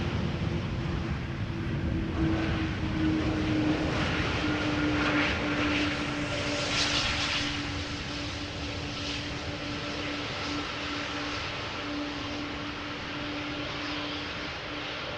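An airliner lands at Amsterdam Schiphol Airport, its engines a steady, fairly distant roar with a faint tonal whine that holds throughout and swells slightly midway.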